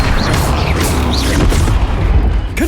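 A Flipendo spell cast in the video game Hogwarts Legacy, a loud booming burst with whooshing swells over a dense rumbling game soundscape, no talk over it.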